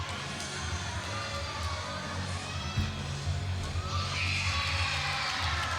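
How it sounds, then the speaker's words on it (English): Applause and crowd cheering in a college gymnastics arena after a beam routine at a meet against Western Michigan University, a steady wash of clapping and voices that swells toward the end. "The team over to give her a nice round of applause"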